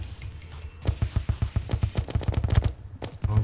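Rapid bursts of gunfire from a gun in the video game Terraria during a pirate invasion fight, a fast string of sharp, evenly spaced shots that stutter and restart, loud and close with no talking.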